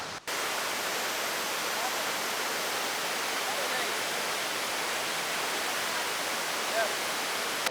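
A waterfall at a Jurassic Park filming location, heard as a steady, unbroken rushing hiss of falling water, moderately quiet and constant throughout with no talk.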